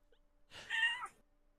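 A single cat meows once close by, a short rising and falling call lasting under a second against a faint steady hum in an otherwise quiet room.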